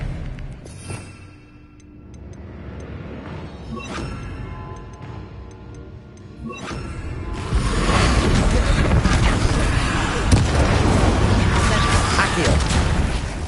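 Spell blasts in the Hogwarts Legacy video game: scattered sharp cracks and booms, building into a loud, sustained roaring barrage of explosions, with a voice shouting incantations over the noise.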